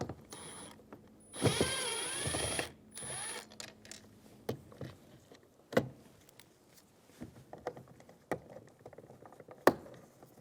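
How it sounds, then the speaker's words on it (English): A powered driver with a T15 bit backs a bolt out of a 2000-2007 Ford Focus rear door, a brief whirring whine followed by scattered clicks and small mechanical knocks, close up and quiet. "Using a T15 bit, remove the bolt."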